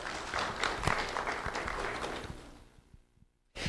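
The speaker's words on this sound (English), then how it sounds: "Let's have a round of applause for Jean Rodriguez." A crowd applauds an honoree at a sheriff's office recognition event, moderately loud clapping that fades out near the end before a brief burst resumes.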